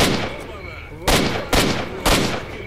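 Three loud, evenly spaced gunshots ring out in S.T.A.L.K.E.R.: Shadow of Chernobyl, each a sharp crack with a ringing tail, after an earlier shot fades at the start.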